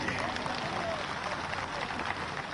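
A large audience at a tribal pride award ceremony in Umaria, Madhya Pradesh, gives a dense, sustained wash of applause that fills the hall evenly from start to finish.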